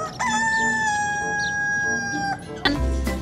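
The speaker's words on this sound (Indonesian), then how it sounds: "ini adalah seekor ayam teman-teman" A chicken in the video game Jurassic World Evolution 2 gives a long, drawn-out call followed by a short cluck and a low thump, heard up close with no talking.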